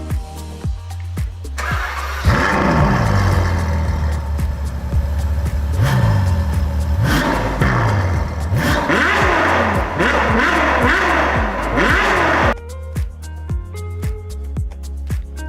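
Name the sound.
car engine revving after pump replacement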